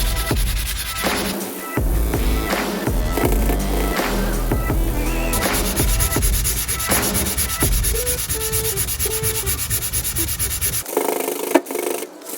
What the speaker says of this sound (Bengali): 180 স্যান্ডপেপার এটা দিয়ে প্রথমে আমি স্ক্র্যাচ যে এরিয়াতে আছে ওই এরিয়াটা আমি ভালোভাবে